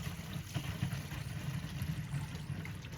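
A Little Giant sump pump runs while water flows out, a continuous low rumbling hum with a steady rushing wash on top, moderately loud and unbroken.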